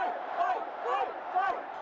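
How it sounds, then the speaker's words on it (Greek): A large crowd at an election rally for a 78-year-old former president cheers and chants a slogan in rhythmic waves, three swelling shouted pulses of massed voices, loud and continuous. "Το πλήθος ζητοκραυγάζει, επαναλαμβάνοντας το σύνθημα του 78χρονου πρώην Προέδρου"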